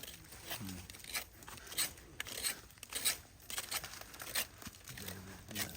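Scraping of diseased bark being cut away from a mature durian tree during pruning, a close, steady run of rough rasping strokes repeated in an irregular rhythm, with no talk.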